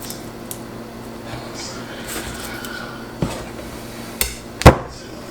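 Garlic clove smashed on a kitchen board while making quick dill pickles: a sharp, close thump near the end after a couple of lighter knocks over quiet room tone.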